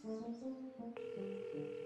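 Telephone tones sound in the video game Lost in Play while calling a pizza place: a sequence of steady electronic tones changing pitch, clear and alone, with no talk.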